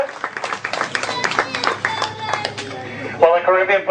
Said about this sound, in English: that's our cue right there for some applause for the birds